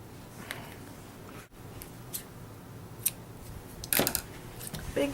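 Big scissors snip through material with several sharp clicks and short cuts spread across a few seconds, close by, with a faint background hum.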